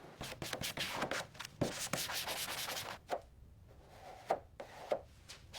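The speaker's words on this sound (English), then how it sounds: "We're starting the final sanding process now, making sure the surface is absolutely uniform" Rhythmic strokes of sandpaper rubbing hardened body filler on a classic car, quick back-and-forth scrapes followed by a few slower separate passes, close by.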